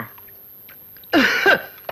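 A short, close cough, a couple of harsh bursts in quick succession after a quiet moment.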